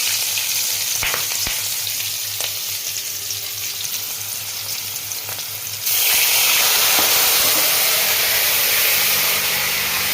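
A splash of water added to a hot pan with cumin while cooking mustard-paste hilsa: a moderate sizzle first, then a sudden, louder hissing surge partway through that stays strong to the end.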